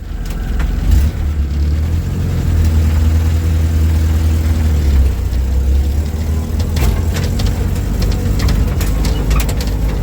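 A 1946 Willys CJ-2A jeep engine drones steadily while driving at low throttle, a loud, close, low rumble that holds evenly for the whole stretch with no talking.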